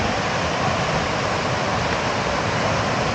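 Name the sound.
water rushing at a dam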